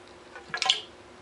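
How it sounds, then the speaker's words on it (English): A motorcycle fork shock with fork oil left unchanged for 40 years gives a brief, quiet gurgling burst of bubbling fluid and sucked air, lasting under half a second against near silence. "listen for when the fluid starts bubbling or the shock starts sucking air"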